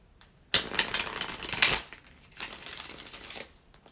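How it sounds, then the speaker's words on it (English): A handful of playing cards spilling out of a deck: a sudden close burst of papery riffling and crinkling that lasts about a second, then a second softer flurry of card shuffling, with no voices. "Oh, these cards just fell out."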